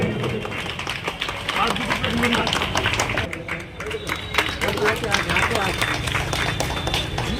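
An audience at a formal gathering claps loudly together in a dense, sustained burst of applause, mixed with crowd murmur and a voice over a loudspeaker.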